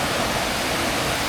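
Ditumabo Mother Falls in Baler, Aurora, pours as a dense, steady roar of rushing water, close and continuous with no voices.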